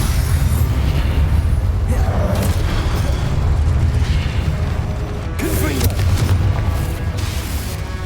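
Magical spell combat in the video game Hogwarts Legacy: loud, continuous booming blasts and rumbling impacts with crashing bursts, dense and close throughout.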